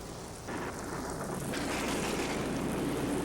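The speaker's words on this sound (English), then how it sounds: "the prairie thunderstorm was a force to be reckoned with." A prairie thunderstorm pours steady, dense rain, with a low thunder rumble rolling beneath the hiss of the downpour.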